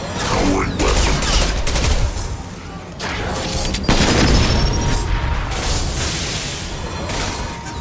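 Impact shot weapon ability fired in Mass Effect 2 Legendary Edition, dense booming gunfire bursts layered into a continuous loud battle, with a sharp crack near the midpoint and faint voices underneath.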